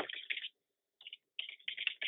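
Fingers type on a computer keyboard, sounding as quick clusters of close, crisp keystrokes broken by a short pause, with no voices.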